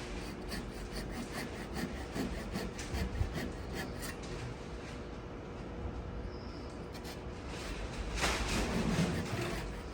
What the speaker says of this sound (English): I'm really letting the saw do its own work here.